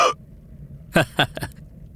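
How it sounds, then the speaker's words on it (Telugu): A man with persistent hiccups in a Telugu period drama set at a royal court gives a few short, sharp bursts, separated by pauses, after a brief spoken word at the start. "ఏమైంది ఆచార్య, మీకు ఎక్కిళ్ళు తగ్గట్లేదు?"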